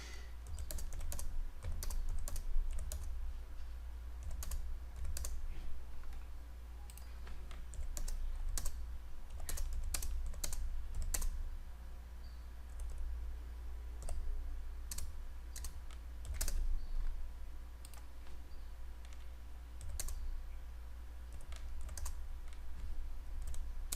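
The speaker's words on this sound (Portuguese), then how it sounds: "vou digitando as notas uma abaixo da outra" Grades being typed into an Excel spreadsheet on a computer keyboard, with steady, close key clicks and occasional louder taps over a constant low hum.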